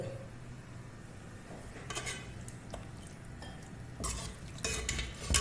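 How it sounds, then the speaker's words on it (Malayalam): Chicken curry stirred in a pot with a spoon, giving scattered scraping and clinking strokes against the metal over a faint background sizzle, close and fairly quiet, growing busier toward the end. "ഒന്നും കൂടി ഇളക്കിയിട്ട് നല്ലോണം മൂടി വെച്ചിട്ട് ഈ ചിക്കൻ ഒന്ന് വേവട്ടെ"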